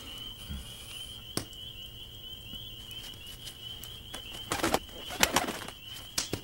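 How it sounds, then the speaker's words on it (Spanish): Wings flap in a rapid flurry from a bird in a forest setting, with a faint cooing note early on, over a steady high electronic hum, no talk. "Ese pájaro me atacó."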